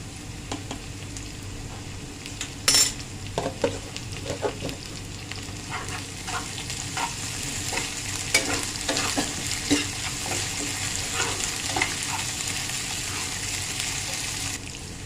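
Ginger garlic paste sizzles in oil in a pan with scraping stirs and a few sharp clatters, a continuous moderate frying hiss running throughout with no talk.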